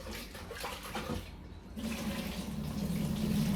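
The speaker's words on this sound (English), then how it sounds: "Make sure you pour the water nicely." Water is poured into a bowl to rinse guavas for homemade juice, a soft splashing pour that briefly pauses and then resumes as a steadier, fuller stream, quiet and close.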